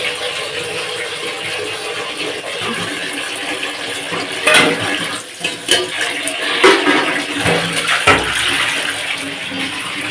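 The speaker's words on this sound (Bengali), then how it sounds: "একটু ভাতে জল দিয়ে দিই" Water is poured into a pot of freshly cooked rice in a home kitchen, a steady close splashing gush with clanks of the pot near the end, and no voices.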